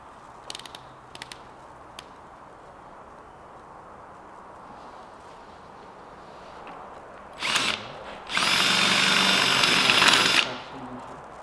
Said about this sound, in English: So I'll try and drill this one out and see if we can get drilled out right.